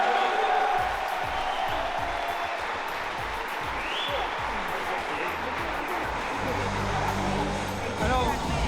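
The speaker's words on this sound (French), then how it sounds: "Allez, on peut l'applaudir encore s'il vous plaît." A crowd applauding and cheering for UFC fighter William Gomis, sustained dense clapping throughout with a voice talking over it near the start.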